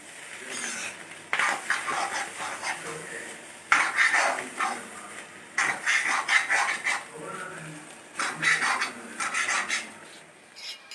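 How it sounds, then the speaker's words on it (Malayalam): Cooked clam meat being stirred into masala in a pan for a Kerala-style clam roast, with repeated scraping and clinking of a spoon against the pan in irregular bursts, close and moderately loud, with no talking. "അതിലേക്ക് നമ്മൾ വേവിച്ച് വെച്ചിട്ടുള്ള കക്ക ഇറച്ചി ചേർത്ത് നന്നായിട്ട് ഇളക്കി യോജിപ്പിക്കാം"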